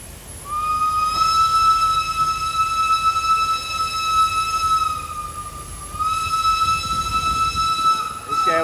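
An antique steam train pulls out of Hua Lamphong station in Thailand, sounding a long, steady whistle that pauses and then resumes, over a low rumble and crowd noise.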